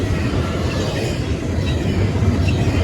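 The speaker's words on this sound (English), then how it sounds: "Why I catch this train so badly" Norfolk Southern locomotive NS 8114 rolls past a grade crossing on Bayview Road in Blasdell, New York, a steady, close rumble with continuous rail clatter and no voices.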